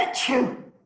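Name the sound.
sneeze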